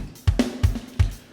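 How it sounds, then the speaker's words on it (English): Programmed MIDI drums for a short funk tune, entered by hand with mouse and keyboard: punchy kick and snare hits in a steady groove, close and dry, with no voices. "The drums. So I'll load up the drums."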